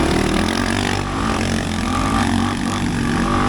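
A dirt bike on Kenda Trakmaster tires revs hard in mud, its engine drone loud and close, surging and dipping briefly with the throttle as it pulls through the muck.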